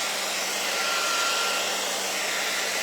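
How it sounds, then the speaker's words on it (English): A handheld blow dryer runs continuously to dry freshly stenciled paint, giving a steady, loud, close airy whoosh that holds at an even level throughout with no talk over it. "Let me get my blow dryer."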